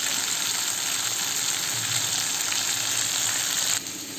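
Cauliflower frying in spiced oil with turmeric and salt, giving a steady, loud, dense sizzle that runs continuously without talk and dips slightly near the end.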